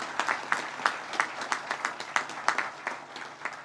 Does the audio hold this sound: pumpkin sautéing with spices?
no